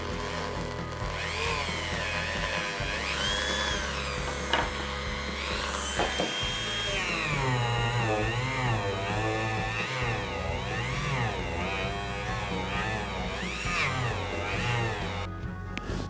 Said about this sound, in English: take my Dremel and some polishing compound